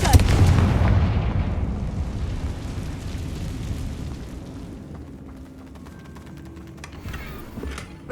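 Blasting Confringo spell explosion in the Hogwarts Legacy video game, a loud low boom at the start that rumbles and slowly decays over several seconds with faint creaks.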